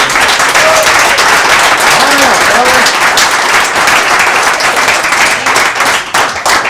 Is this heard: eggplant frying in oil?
no